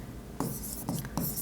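A pen scratches on paper in short, close strokes, writing figures in an accounts ledger.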